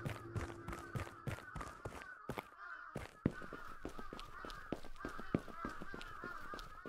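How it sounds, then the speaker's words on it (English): Birds call in loud, honking caws over and over on a street in Japan at night, a dense rhythmic chorus that stays steady throughout. "What are these birds?"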